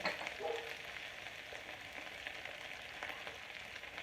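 Spinach sizzles and fries in oil with garlic salt in a frying pan, a steady close crackle with no talking.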